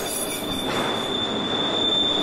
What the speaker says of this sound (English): Trains entering or exiting the Callahan sub SM line can really squeal on that curve, ear-shattering.